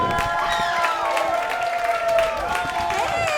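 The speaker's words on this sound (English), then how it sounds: "Jana Bernard, get it for Jana. Let her hear it." Comedy club audience at Broadway Comedy Club applauding and cheering as a stand-up comic is introduced, a steady wash of clapping and whoops under an announcer's voice.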